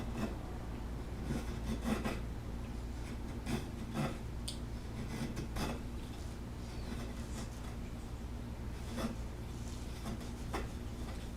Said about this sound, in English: these smaller chisels really don't take a whole lot. You can just get them done with a few strokes on 600 grit